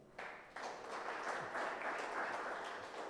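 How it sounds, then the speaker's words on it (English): Conference audience clapping for a speaker at an agricultural conference, a quiet but steady round of applause that starts abruptly and holds evenly throughout. "let's give a clap to Samuel"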